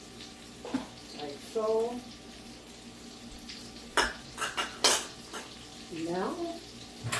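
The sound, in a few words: beef shank pan searing in butter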